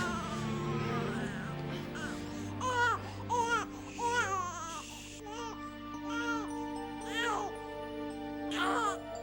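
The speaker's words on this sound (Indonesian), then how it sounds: "Saya sudah capek mendengar tangisannya." A baby cries in a television drama with repeated wailing, rising and falling, close and fairly loud over a steady hum, and stops briefly between cries.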